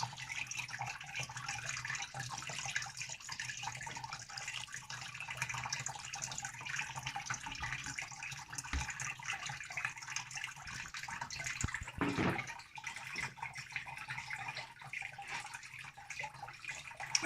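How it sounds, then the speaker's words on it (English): Water running and trickling steadily as it pours through a bucket of worm castings, a soft continuous splashing flow with a brief louder gurgle partway through, no voices. "As you can hear, the water is going through quite quickly, quite nicely."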